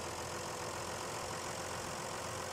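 A tractor in four-wheel drive pulling a stuck truck out of mud, its engine a steady, distant-sounding broadband roar at constant pitch with no breaks.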